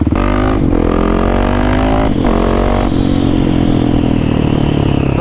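A motorcycle engine revs up from low speed, its pitch climbing in several pulls with gear changes, loud and close with some clatter.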